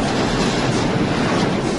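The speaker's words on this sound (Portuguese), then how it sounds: "É bem ao lado da ferrovia que fica a casa de Bertolina" A train rolls along the railway right beside a house, a loud, continuous rumble and rush that stays close and unbroken throughout.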